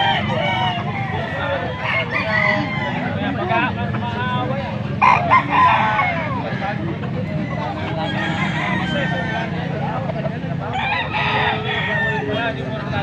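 Young Boston-breed gamecock stags crow repeatedly amid clucking fowl in a busy outdoor yard, loud and near, with a person talking over the birds and faint background noise.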